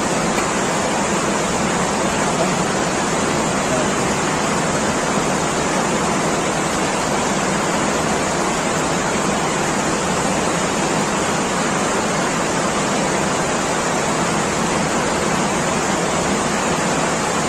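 Steady rushing water flows continuously, a broad hiss of a nearby stream with no pauses or talk, loud and even throughout.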